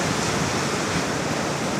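Ocean waves on a winter beach, a steady broadband wash of surf rolling continuously at even loudness with no distinct breaks, heard alone without voices.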